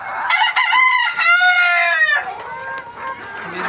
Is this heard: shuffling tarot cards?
no